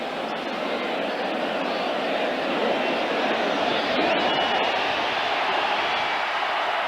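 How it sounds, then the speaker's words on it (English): A dense, steady roar from a football stadium crowd at a 1989 Monday night game between the LA Rams and the Buffalo Bills, loud and unbroken throughout, with no commentary over it. "You heard the crowd."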